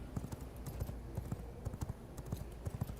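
Horse hooves clip-clop in a steady, rapid gait in the video game V Rising, crisp repeated thuds close up with faint background hiss and no talking.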